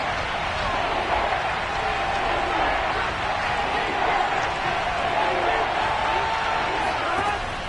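Steady roar of a stadium crowd at a Kansas City Chiefs NFL game during a third-and-goal play, a continuous broad wash of fans with a play-by-play voice talking over it throughout.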